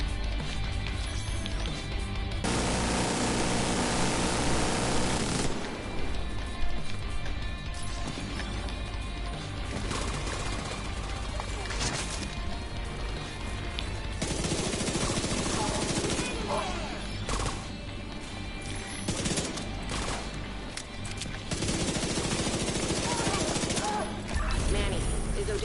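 Sustained turret machine gun fire in The Division 2 roars almost without pause, with dense loud bursts broken by brief gaps, while someone talks intermittently underneath.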